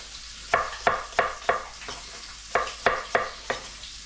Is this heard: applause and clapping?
no